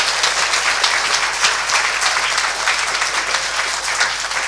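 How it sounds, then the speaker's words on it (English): An audience at a charity talk breaks into sustained applause, a dense close wash of many hands clapping that stays even and loud from start to finish. "Let's give another clap to that one."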